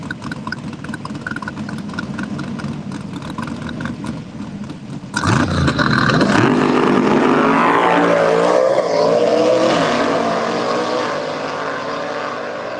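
Drag racing launch at a bracket-racing event, with a Falcon stick-shift car in the right lane; after a steady idling rumble, a loud engine roar erupts midway and holds with rising gear-shift pitches.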